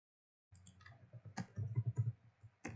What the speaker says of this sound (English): I'm just typing in something here for a second